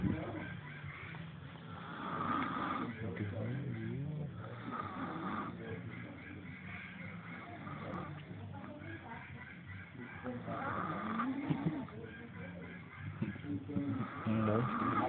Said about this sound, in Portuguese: Um monstro roncando aí.